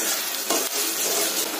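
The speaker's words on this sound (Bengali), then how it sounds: "এখন মশলাটাকে একটু ভালোভাবে ভেজে নেব।" Spices and sliced green chilies fry in a hot pan with a dense, steady sizzle and a brief stirring scrape, close and loud with no talking.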